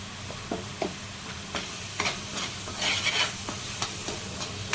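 Coriander powder, turmeric and spices fry in a pan while a utensil stirs and scrapes them, giving irregular clinks and scrapes over a soft, steady sizzle, with no voices.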